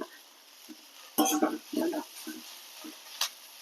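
Curry leaves dropped into frying okra in a pan crackle in short bursts, with brief stirring scrapes between the pops, close and moderately loud.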